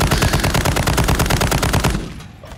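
Rapid automatic gunfire in an online team shooter, loud, dense bursts of shots repeating steadily for about two seconds before cutting off into a brief quiet tail.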